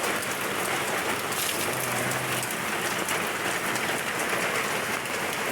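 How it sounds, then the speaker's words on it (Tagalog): Heavy rain pours down steadily outdoors, a loud, continuous hiss of drops drumming on surfaces that holds for the whole stretch with no voices. "Lakas ng ulan."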